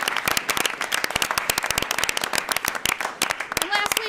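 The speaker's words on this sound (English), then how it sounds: "please let's give her a round of applause" Audience at a school board meeting giving a round of applause, a few people clapping in sharp, uneven claps, fairly close and thin rather than a full crowd, with a brief voice near the end.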